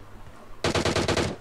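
A DP light machine gun fires in PUBG on the Erangel map: a sudden rapid burst of about six loud, evenly spaced shots after a quiet lead-in, close and alone.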